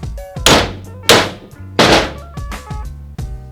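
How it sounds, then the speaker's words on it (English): A Clydesdale wrench is struck in a few heavy, hollow thumps while tightening a tie rod on an early Ford Bronco steering assembly; the blows are close and loud, separated by short uneven pauses. "Couple good thumps on the Clydesdale wrench."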